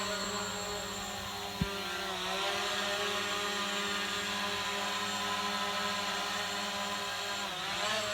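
RKA GD91MAX drone lifting off under one-touch takeoff, giving a steady close rotor whine with layered harmonic tones. The pitch sweeps as it climbs, with one sharp click partway through and no voices.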